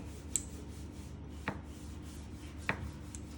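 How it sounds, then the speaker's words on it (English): A knife cuts through smoked bacon to trim away the fat, landing three sharp, separate chops at an even pace against a steady low background hum. "we don't like too much fat, so sorry for this bacon. I'm gonna trim it."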